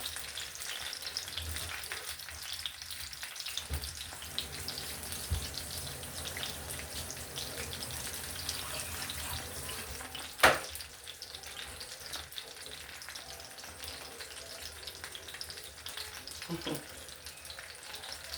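Fish frying in oil in a home kitchen, a steady broadband sizzle running throughout with one sharp clatter partway through and faint background noise.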